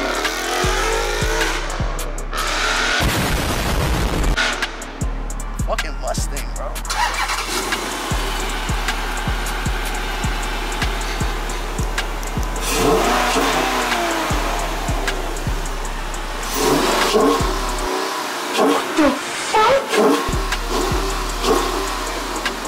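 An older Dodge Challenger's engine cranks, catches and idles loudly up close, with a rough rumbling lope and repeated revving surges across the whole stretch, and no talking.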